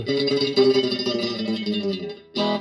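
A guitar run through an Electro-Harmonix Canyon delay pedal on a very short echo setting, giving a thick, doubled tone with a slight smeared tail, played continuously before a brief gap and a final strum.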